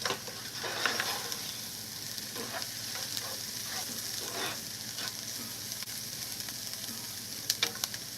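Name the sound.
stirring gumbo greens cooking in pot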